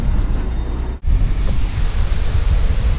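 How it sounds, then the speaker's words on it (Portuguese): Cold wind blowing outdoors at Canasvieiras beach in Florianópolis, a steady loud rushing roar buffeting the microphone, broken by one brief dropout before the gusting noise resumes. "Continua esse vento gelado."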